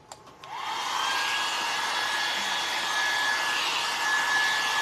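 A handheld hair dryer blows steady air to dry layers of gray craft paint on a rustic DIY wooden sunflower, with a constant close whoosh and a faint whine and no talking.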